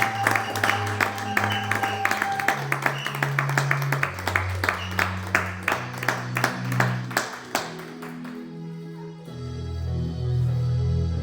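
A church congregation claps at an ordination and foot-washing service in Montauban, a dense rhythmic clapping with sustained organ or keyboard chords underneath, the clapping fading as held notes continue near the end.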